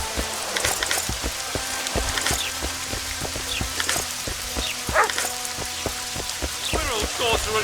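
Steady rain in The Witcher 2 video game patters and hisses throughout, with scattered sharp clicks and a few higher calls rising over the downpour.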